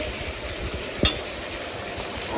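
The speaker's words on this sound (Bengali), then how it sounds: "একটু ভালো করে নাড়াচাড়া করতে হবে যেন তরকারিগুলো এই পেস্টটাও সব কিছু মিলে যায়।" Faint scraping of a spoon stirring curry with a mustard paste of red and white mustard, cumin and green chilli in a home kitchen pan, steady and quiet with one sharp clink near the middle.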